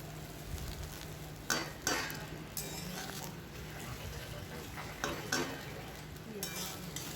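Homemade fried rice is stirred in a frying pan, a steady sizzle running underneath while a spoon scrapes and clatters against the metal in a few sharper strokes, close and moderately loud.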